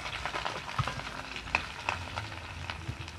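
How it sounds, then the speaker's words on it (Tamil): Onion fries in hot oil for a Jaffna-style squid curry, with a soft, close sizzle broken by sharp pops and occasional spoon taps against the pan. "இப்போ பார்த்தீங்கன்னா இந்த வெங்காயத்தை சேர்த்துக்கொள்வோம்."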